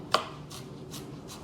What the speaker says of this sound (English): And do a rough chop.